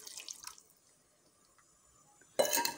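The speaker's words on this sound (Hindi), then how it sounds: "अब इसमें ना डालती हूँ पानी तो फिर अच्छी तरह से ये पक जाएगा" Water poured into a pot of vegetable curry cooking in a village kitchen, a short splashing pour at the start and another louder burst at the end, with quiet dripping between.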